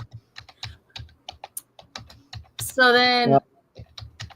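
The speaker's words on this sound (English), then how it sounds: "I am not pounding. I was typing." Typing on a computer keyboard, a quick run of light clicking keystrokes close by, broken by a brief burst of another loud sound partway through, with a few words spoken near the end.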